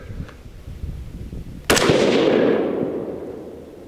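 A 6 ARC rifle with a Proof Steel barrel fires Hornady 108-grain ELD Match ammo at 100 yards: after faint earlier pops comes one sharp, loud crack, then a long rumbling echo that slowly dies away.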